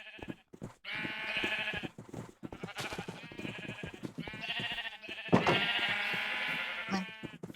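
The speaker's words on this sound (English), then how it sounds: "Look at all these sheep." Minecraft sheep bleat repeatedly in a virtual farm pen, several overlapping wavering calls in close succession, fairly loud and alone with no talking.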